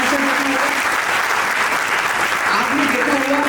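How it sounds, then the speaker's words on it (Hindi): A seminar audience in Lucknow claps loudly and steadily, with dense, continuous applause that lasts the whole few seconds. "बहुत जबरदस्त तालियां हो जाए"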